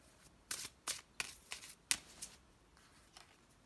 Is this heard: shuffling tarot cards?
yes